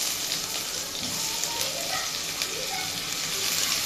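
Onions fry in hot oil in a pan for a papaya and pangas fish curry, giving a constant, fairly loud sizzling hiss that fills the whole stretch with no pauses.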